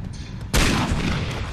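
A sudden, loud burst of gunfire in Far Cry Instincts Predator rings out close after a quiet lead-in, then trails off in a noisy decay with no voices.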